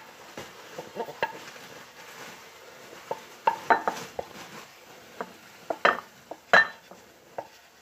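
Mushrooms and onions frying in a pan for burgers, a steady low sizzle under repeated scrapes and clinks of a utensil stirring and knocking against the pan, close and moderately loud, with no talking.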